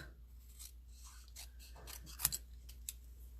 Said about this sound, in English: So I just want to cut this in half.